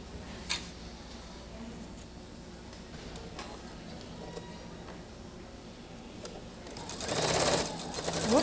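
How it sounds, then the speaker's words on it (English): A sewing machine stitching quilt pieces runs in quiet, steady ticking bursts, with a few clicks along the way and a faster, louder run of stitching near the end. "I do like to sew a little quicker than that."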